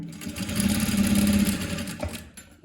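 Sewing machine running a seam on bed linen, a loud, close, steady motor hum with rapid stitching that holds for about two seconds before winding down.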